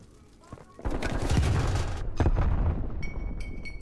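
A bomb thrown in a competitive Splatoon match bursts in a dense, loud rush of explosive noise lasting over a second, followed by further game effects and chiming tones, with commentators' voices partly under it.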